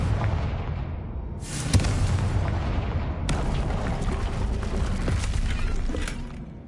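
Confringo fire spell explosions in Hogwarts Legacy, with a sustained booming, crackling roar and two sharp blasts near 1.7 and 3.3 seconds amid dense rumbling game combat.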